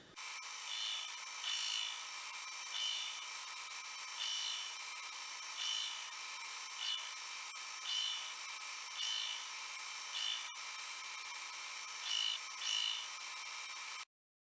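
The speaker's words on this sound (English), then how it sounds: "now I'm going to jump on the grinder and get everything cleaned up, get our bevels finished up" A belt grinder whines continuously at high pitch, with a rhythmic rise and fall as a forged Damascus knife blade is pressed against it repeatedly to finish the bevels.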